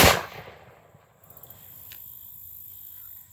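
A black-powder percussion-cap musket fires with a single sharp, loud blast at the very start, followed by a quick decaying echo and then faint outdoor ambience.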